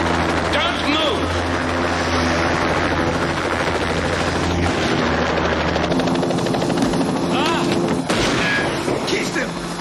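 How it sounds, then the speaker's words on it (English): Helicopter rotors in the 1986 film Biggles: Adventures in Time thump loudly overhead, a dense, steady beating roar with sharp cracks breaking through near the end. "That's a helicopter."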